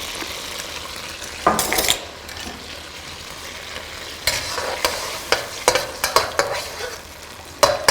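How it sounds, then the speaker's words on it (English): Food being stirred with dark soy sauce in a frying pan, giving several close scraping and clattering strokes against a steady sizzle, with a quiet pause between bursts. "Now you stir it around."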